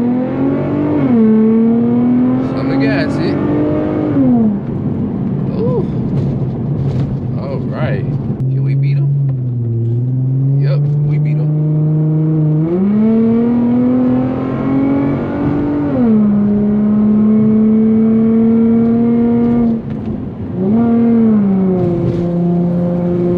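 An Infiniti G35 is driven hard on a back road, its engine revving up and down through repeated gear changes with a loud, steady drone and rising pitch sweeps, close and continuous throughout.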